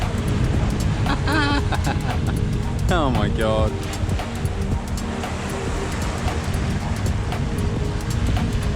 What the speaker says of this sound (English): Look how steep the waves are.